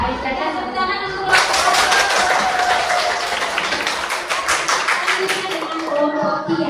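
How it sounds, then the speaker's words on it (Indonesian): Applause from a classroom for group 3, dense even clapping that starts suddenly and carries on steadily at close range, with voices faintly under it near the end. "Tepuk tangan untuk"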